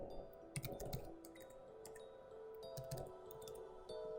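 Soft, quiet computer keyboard typing of JavaScript code, with scattered key clicks in bursts, faint against a low background hum.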